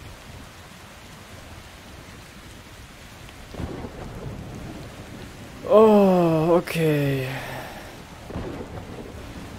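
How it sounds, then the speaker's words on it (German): A thunderstorm with steady rain in the video game Metro Exodus, a constant rainy hiss broken by a loud, rumbling thunderclap near the middle, with a brief spoken remark. "Warum muss das jetzt so stürmen?"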